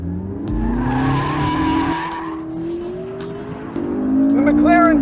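A 600-horsepower McLaren drifting with stability and traction control switched off: a loud, continuous engine roar with shifting pitch and sustained tire squeal, the revs climbing again near the end.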